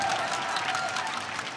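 Steady applause from a crowd at a MapleStory winter showcase event, a dense wash of clapping that stays loud and even throughout with no talking over it.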